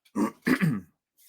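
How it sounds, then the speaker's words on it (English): A person clears their throat twice, each a short, rough, close burst, followed by a brief pause. "excuse me for clearing my throat"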